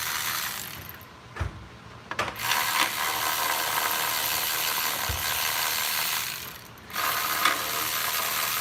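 GearWrench ratchet wrench clicking steadily and rapidly up close, a continuous fine ratcheting texture broken by brief pauses and a few knocks, with no talk.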